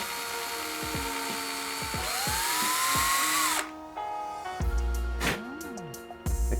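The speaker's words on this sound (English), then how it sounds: "And now we will just drill right through here." A power drill bores holes through a wet clay bonsai pot, the motor whining up and down in pitch with stops and restarts, close and fairly loud, alone without speech.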